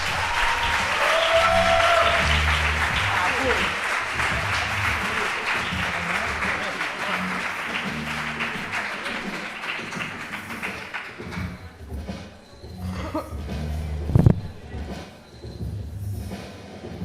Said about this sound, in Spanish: Un aplauso fuerte para Izaskun Mata.